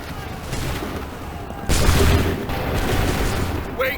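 Musket volley from soldiers in Assassin's Creed 3, a dense burst of gunfire erupting loudly partway through, then rumbling on under ongoing battle noise with no talk.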